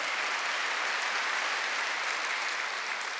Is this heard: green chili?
no